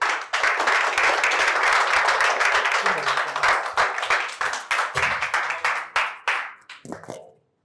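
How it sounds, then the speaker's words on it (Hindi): An audience claps for a comedian at a stand-up show, a loud burst of applause that thins into scattered individual claps and then stops, with a voice speaking over part of it. "एक बार जोरदार तालियां हो जाए ओमकार भाई के लिए"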